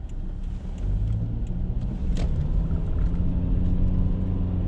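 A 2009 Subaru Outback 2.5 driven down the road, heard from inside the cabin as a steady, loud low rumble of engine and tyre noise that builds slightly as it moves along, with no talking.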